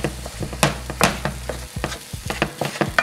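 A potato and egg hash is mixed in a skillet, with quick, close scraping and tapping strokes of a utensil over a soft sizzle of frying food. No one speaks.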